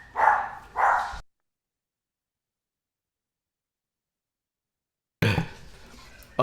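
A dog gives two quick barks, then everything goes silent for several seconds before a rustling burst of noise returns.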